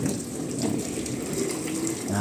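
Water sprays steadily from a hose while cleaning up at a golf course, a constant hissing rush heard close, then a faint tonal whine at the very end.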